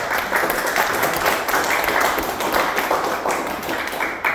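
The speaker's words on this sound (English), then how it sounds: "So, round of applause." A room of people claps in a sustained round of applause at a Toastmasters open house, dense and steady for the full length without pause.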